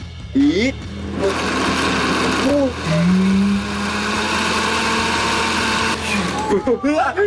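A kitchen blender mixes a milk drink, running steadily and loudly for several seconds, while people talk and react over it at the start and end.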